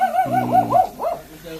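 Several hungry, unfed dogs kept shut inside a house whimper and whine in high wavering cries, loud and close, in a short burst with no talk over it.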